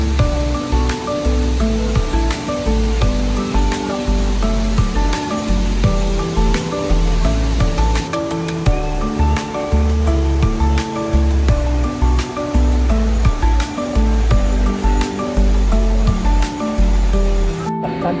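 Bulawan Falls in Aurora Province gives a steady, loud waterfall roar with a constant broadband rush of spray and churning water, running without a break and without any talk.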